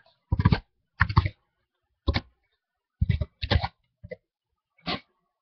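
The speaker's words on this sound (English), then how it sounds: "I'm typing it in." Someone types on a computer keyboard close by in brief clusters of sharp clicks separated by short pauses, in an otherwise quiet room.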